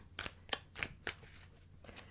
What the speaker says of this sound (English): I feel like I'm shuffling it slightly weird.